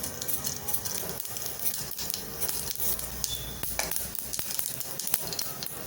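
Mustard seeds and fennel sizzle and crackle steadily in hot oil, a soft, close frying hiss with scattered pops and faint clinks of a pan, and no talking.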